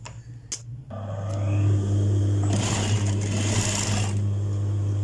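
Sewing machine stitching a seam on the leg of a belted shalwar, a steady loud motor whirr with a strong low hum running continuously after a brief start, close and alone with no talk.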